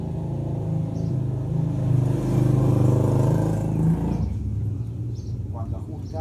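A Rouser NS 200 motorcycle engine with excessive intake valve clearance runs nearby in a steady, deep rumble that swells slightly mid-way, then drops to a rougher, lower idle for the last couple of seconds.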